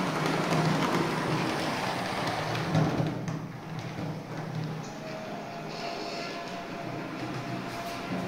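A Roco model locomotive's sound module plays through a small speaker: a rumbling, hissing locomotive engine sound, steady at first and then settling into a quieter hum.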